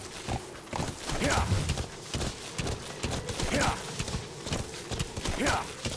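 Hooves of D-Horse, the rideable horse in the video game Metal Gear Solid V: The Phantom Pain, clop in a steady rhythmic gait at close range while someone talks over them throughout.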